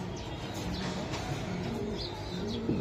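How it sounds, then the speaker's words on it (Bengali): Racing pigeons at a loft coo softly in low repeated murmurs, with a few faint chirps higher up, all quiet and close against a steady background hum. "দেখেন এগুলা যে সেই একটা কবুতর, এটা হলো রেস করা কবুতর ঠিক আছে।"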